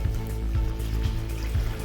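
Water pouring steadily into a bucket during an aquarium water change, a close, continuous splashing fill with no voices.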